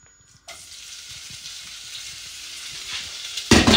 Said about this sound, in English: And you want to fry your onions.